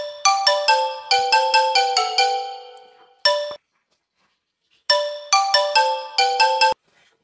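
A mobile phone rings with a bright, chiming melodic ringtone, looping through several rapid bursts, pausing, then ringing again; close and clear with no talk.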